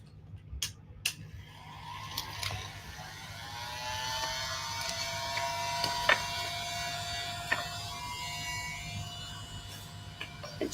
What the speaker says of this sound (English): I'm going to hit it with my heat gun